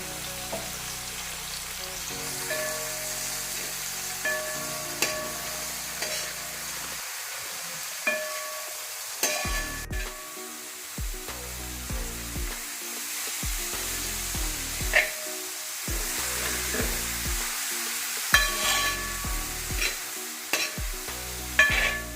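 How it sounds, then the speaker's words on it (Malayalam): Onions and tomatoes fry and sizzle in a pan while a utensil stirs them in repeated scraping strokes, close and steady, for a fried rice dish, with no talking. "നല്ലതായിട്ട് ഇളക്കി കൊടുക്കുക"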